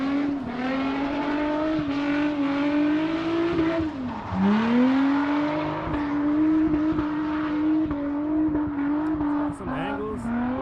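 A drift car attacking a course at a drift invitational, its engine droning and revving under aggressive throttle, pitch dipping and climbing as it swings through the zone, with tire noise and an announcer talking over it.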